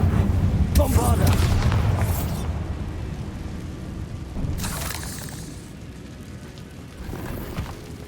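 Bombarda blasting spell in the video game Hogwarts Legacy, heard as deep booming blasts with crackling debris, a heavy burst early on and another around the middle, fading into rumbling game ambience.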